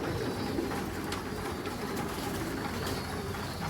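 A racing pigeon coos softly in repeated low, rolling calls, close by, set against a constant bed of rumbling background noise.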